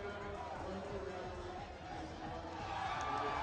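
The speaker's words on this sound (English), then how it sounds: "the chanting and applause from back here" Crowd chanting and applause at the Pokemon World Championship 2012 fill a large hall as a dense, steady roar, heard from the back of the venue with talk mixed in.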